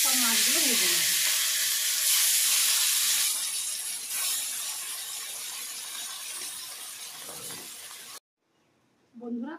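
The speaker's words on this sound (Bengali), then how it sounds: "বন্ধুরা, এইভাবে আমি সব মাছগুলো ভেজে নেব" Fish frying in hot oil in a pan with a loud continuous sizzle that gradually softens, broken by a short silence near the end, with a voice briefly heard at the start and close.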